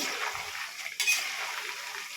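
Food is stirred gently in a frying pan over a soft sizzle, with a few light utensil scrapes and one brief clink near the middle.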